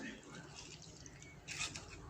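A small splash of microwave-warmed milk goes onto yeast for hot cross buns: a faint, brief liquid trickle with a slight drip near the end, close and quiet.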